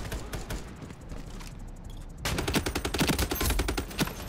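A Bren light machine gun fires in a video game, one short burst followed by a brief lull, then a longer run of rapid, evenly spaced shots, loud and close.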